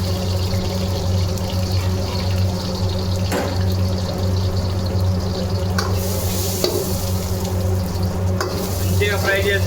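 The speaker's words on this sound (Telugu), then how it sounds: "ఆయిల్ వేసుకొని మంచిగా వేడెక్కిన తర్వాత కొంచెం ఆనియన్ వేసుకోవాలి." Onion frying in hot oil in a home kitchen for biryani, with a steady close sizzle and occasional stirring clinks throughout, no talk.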